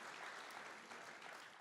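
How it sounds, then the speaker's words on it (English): An audience claps and cheers in steady, dense applause, fairly distant and continuous throughout. "Let's give him a round of applause."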